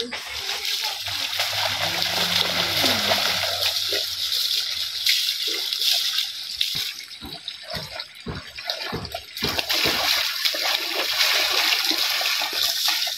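Dirty water is splashed and poured in a cattle-washing setting, loud sloshing and gushing with pauses between splashes, and voices talking over part of it.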